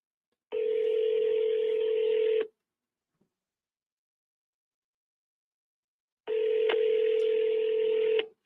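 An outgoing telephone call to a property seller rings on the line, with two loud, steady tones of about two seconds each separated by several seconds of silence.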